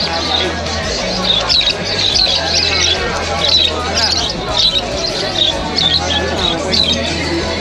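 Birds at a pet market squawk and chirp in short, repeated bursts, moderately close, over a busy background of crowd babble and people talking.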